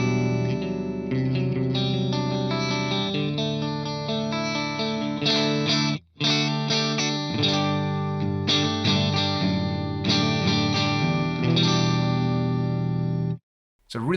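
An electric guitar on its neck and middle pickup combination plays through an FM3 amp model with a little input drive, ringing jangly chords and single notes for about fourteen seconds, with two brief silent breaks.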